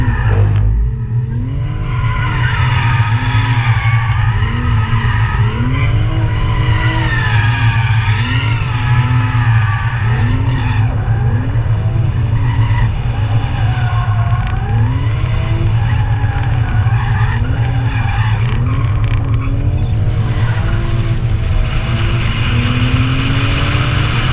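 Toyota Supra drifting on stock steering lock, with a loud, continuous engine note revving and shifting pitch throughout, layered with sustained tire squeal close by and no talk.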